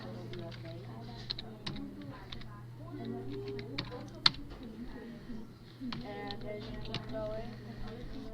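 Computer keyboard typing while HTML code is written, quick irregular clicks of keys running throughout beneath a person speaking, with a steady low hum in the background.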